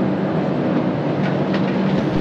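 The Kolkata–Agartala Garib Rath Express pulls out of Nabadwip Dham station, heard from an open coach door as a continuous loud rumbling roar of the moving train, steady and unbroken with no voices.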